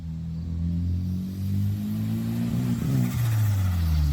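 A 1990s turbocharged AWD Eagle Talon engine runs steadily at a low rumble, then revs up with a rising turbo whine before bogging down to a lower, uneven drone.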